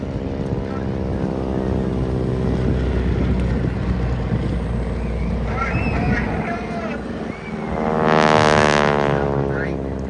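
A Boeing Stearman biplane roars past at an air show in Ireland, its radial engine and propeller droning with a pitch that rises and falls as it passes, swelling louder near the end, with a voice talking over it.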